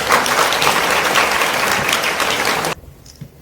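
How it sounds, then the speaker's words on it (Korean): Crowd applause greets a guest speaker at a Korean film screening ceremony, loud dense clapping sustained for under three seconds before cutting off abruptly into near silence. "큰 박수로 맞이해주십시오"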